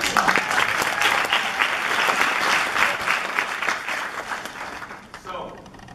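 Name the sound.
audience applause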